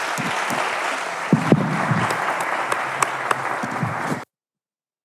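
An audience at a data-leaders conference in Mexico City applauds, a dense, even wash of clapping with a few sharper claps that cuts off abruptly near the end.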